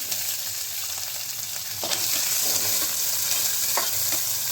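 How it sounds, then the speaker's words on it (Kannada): Onions frying in a pan with garlic and green chillies, a steady close sizzle with scattered stirring clicks throughout and no talking. "ಇವಾಗ ಈರುಳ್ಳಿ ಹಾಕ್ತಾ ಇದ್ದೀನಿ"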